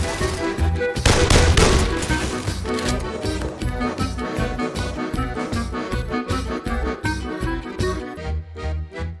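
A PlayStation VR shooting game sends out loud, rapid bursts of gunfire, a dense volley at first and then a steady pattern of repeated shots that continues to the end.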